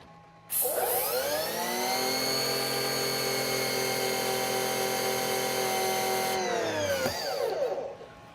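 An EGO 56V battery pressure washer (3200 PSI, 1.2 GPM) spins up on its high setting, holding a loud, steady motor-and-pump whine close by for several seconds before winding down.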